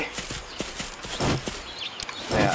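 Horse hooves in Minecraft clop in a quick, uneven run, close and clear, with a few heavier thuds and a brief rustle near the end.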